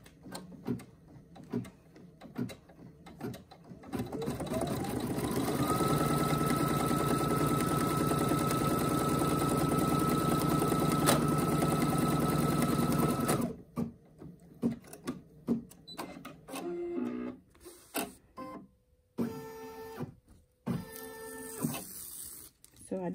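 A Brother NQ1700E embroidery machine stitches a tack-down line on an in-the-hoop fabric bag. Its steady, rapid mechanical whir runs for several seconds, then gives way to scattered clicks and handling noises.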